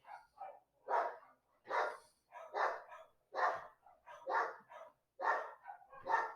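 Several dogs bark in a repeated series of sharp, medium-pitched woofs roughly every half second, fairly close and loud, with no talk over them.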